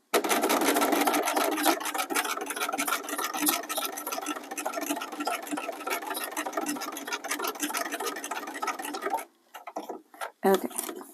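A sewing machine stitches through plastic along an ink line, its dense, steady mechanical whir and rapid needle rattle running loud and close for about nine seconds before stopping, followed by a few brief handling clicks.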